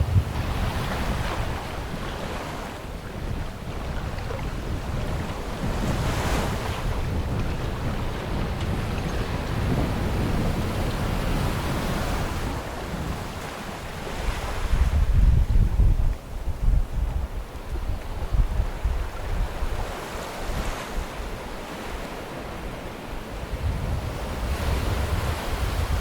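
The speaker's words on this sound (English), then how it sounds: "the wind is definitely building out here" Steady wind and breaking ocean waves rush past a sailboat on open Alaskan waters, a loud continuous roar with gusty surges and no voices.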